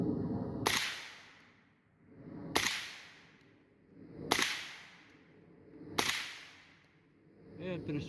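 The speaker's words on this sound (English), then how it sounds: "we're going to be testing a KNS piston with a Wolverine" An airsoft AK fitted with a KNS piston and a Wolverine engine fires four slow, evenly spaced shots. Each shot is a sharp, loud, close crack followed by a short decay, with no talking.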